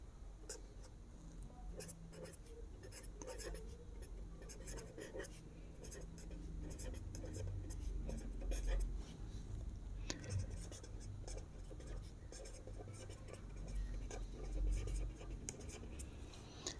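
Pen scratching out numbers on paper during a Class 6 maths lesson, with soft, irregular strokes continuing steadily under low room noise.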